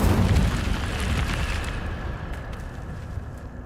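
The Incendio fire spell cast in Hogwarts Legacy, a loud burst of roaring flame at the start that rumbles and fades into a lingering crackling hiss, no voices.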